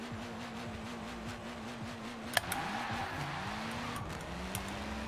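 Drag racing car launching off the start line in second gear, with a steady engine drone rising and shifting in pitch, a sharp crack partway through, and loud continuous motor noise throughout.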